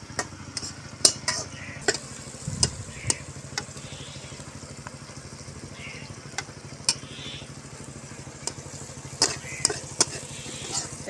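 Chopped onion and chilli frying over a village wood-fired oven, a soft continuous sizzle punctuated by scattered sharp scrapes and clicks of a spoon stirring the pan.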